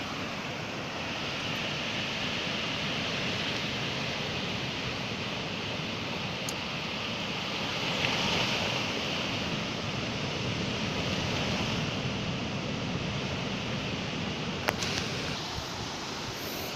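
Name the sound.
waves on the beach shore during net fishing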